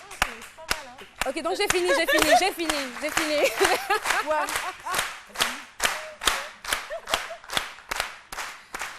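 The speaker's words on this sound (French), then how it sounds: "Est-ce que vous savez pourquoi on applaudit?" Audience applause in a TV studio: a spoken line from a speaker first, then bursts of clapping that grow into a steady run of loud, close hand claps.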